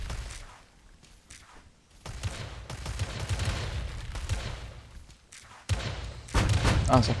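Rapid bursts of booming cannon fire from squadron cannons in the strategy game War Selection, with heavy thuds rolling on continuously, growing louder toward the end, with a faint voice underneath.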